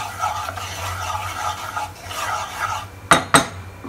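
Turmeric, Kashmiri red chili powder and kasuri methi being mixed in a pan, a soft steady scraping and stirring hiss, ending in two sharp metallic knocks of the spoon against the pan.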